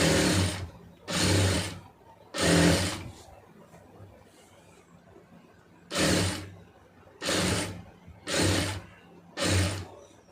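A sewing machine stitching fabric piping runs in seven loud, close bursts of rapid stitching, each about half a second to a second long, with short quiet pauses between them.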